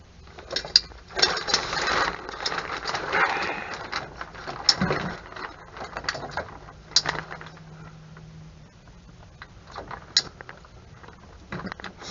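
A handheld pipe cutter is turned around a pipe during a washer and dryer install, giving steady scraping, ratcheting and clicking sounds close by, with occasional sharper metallic knocks and no talk.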